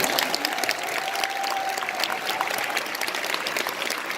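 Audience applause at a two-day seminar, a dense, sustained clatter of many hands clapping for several seconds with a faint tonal hum underneath and no speech.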